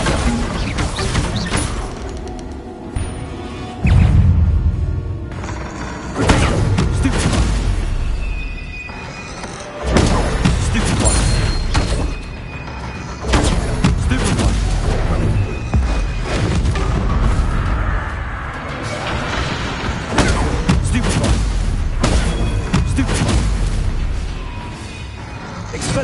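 Bombarda spell explosions in the video game Hogwarts Legacy: repeated loud booming blasts with crashing debris, bursting in quick succession amid other spell effects throughout, with no talk over them.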